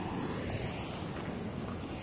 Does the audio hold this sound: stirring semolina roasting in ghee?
no